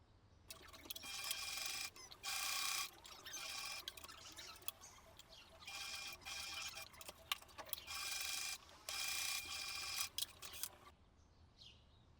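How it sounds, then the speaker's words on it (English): Home sewing machine top stitching a seam on a cotton puff-sleeve blouse, running in several bursts of steady mechanical whirring separated by short pauses, close and clear. "and I top stitch."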